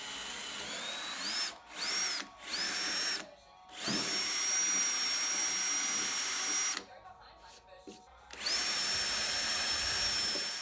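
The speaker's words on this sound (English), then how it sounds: "On the back stretcher I drilled holes for screws to screw up into the top" A power drill bores screw holes in a wooden stretcher for a dresser top. It whines loudly in several bursts, with short pauses between them and a longer steady run at the end.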